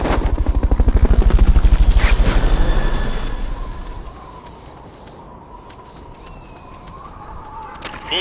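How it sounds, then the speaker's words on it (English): Fulton recovery extraction in Metal Gear Solid: Peace Walker, a loud pulsing whoosh that rises and fades over four seconds, then quieter ambience with bird-like coos and small clicks. "Fulton recovery subject confirmed onboard helicopter."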